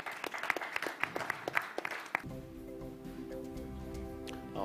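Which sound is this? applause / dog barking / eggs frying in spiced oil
applause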